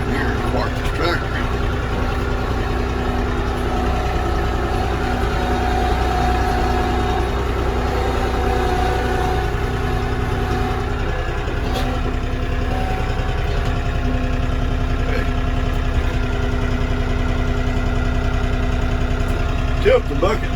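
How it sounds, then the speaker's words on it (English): A parked tractor's engine idles steadily and continuously, a low, even rumble close by that stays constant throughout. "Go around here and park this tractor."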